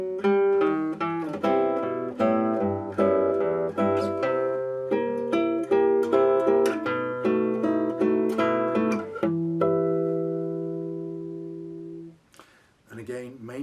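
Solo classical guitar playing bars 39 to 42 of Villa-Lobos Prelude 1, a flowing passage of plucked notes with an inner-voice melody over quieter accompaniment, ending on a ringing held chord before a brief pause.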